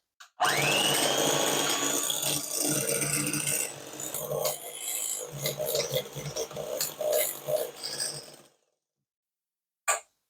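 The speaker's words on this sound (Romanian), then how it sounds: "Punem câte 2 linguri și amestecăm până încorporăm toată crema în unt." Electric mixer beating buttercream into butter for a tricolor layer cake, a steady whirring drone with scraping and rattling against the bowl that continues for about eight seconds and then stops, followed by a brief knock.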